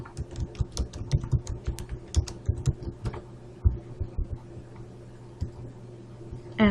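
Typing on a computer keyboard, with quick irregular clicks of the keys in short bursts, close and fairly quiet, ending in a sparser pause.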